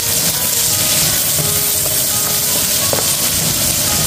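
Sweet and sour sauce fries in a pan while being stirred, giving a loud, steady, close sizzle throughout with faint scraping of the stirring underneath.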